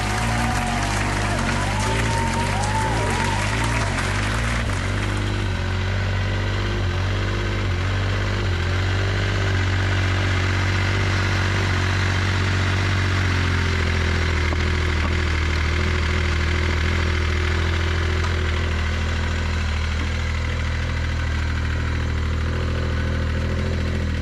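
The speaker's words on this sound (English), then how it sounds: "Managed to get the Yamaha Viking going." Yamaha Viking side-by-side utility vehicle engine turning over and catching, then settling into a steady, loud low idle that runs continuously close by with no talk over it.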